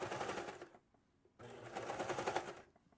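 A serger stitches a shoulder seam on a knit top in two quiet bursts of rapid mechanical whirring separated by a short pause.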